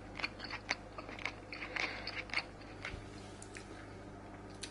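Squeaky, salty cheese being chewed up close, a faint run of rubbery squeaks and soft crunchy bites in irregular bursts over a quiet room background.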